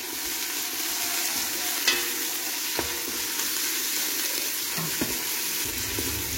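Garlic paste stirred in a hot pan while preparing chicken pastilla, with a steady sizzle and a few soft scraping strokes of a utensil, close and fairly quiet, no talking.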